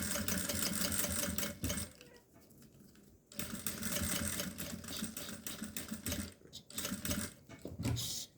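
A sewing machine runs in steady, close bursts while stitching a clear plastic visor onto a cosmetic bag, pausing briefly between runs of stitches.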